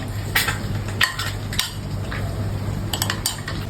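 Utensils clatter and scrape against a bowl while mixing a spicy crab salad with mango, with a few sharper clinks standing out over a low steady background hum.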